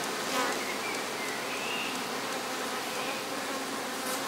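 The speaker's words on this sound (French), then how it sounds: "le chasse-abeille a bien fonctionné, il reste quelques abeilles" Honeybees buzz around harvested honey supers after a bee escape has cleared most of them, a steady, fairly close hum of a few insects with no voices.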